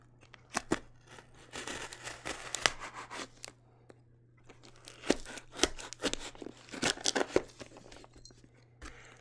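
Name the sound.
cutting thick packing tape on a box with a knife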